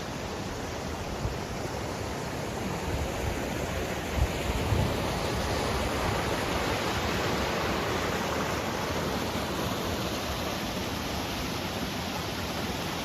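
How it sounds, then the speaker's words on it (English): Steady broadband rush of a waterfall spilling beside a grist mill near the Kingsley covered bridge in Clarendon, Vermont, close and continuous with no voices. "as we come to this waterfall section"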